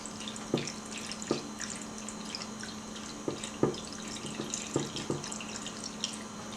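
A container is filled and dumped with rinse water during film development, with running water and irregular sharp splashes and pours repeating several times at close range, no talk.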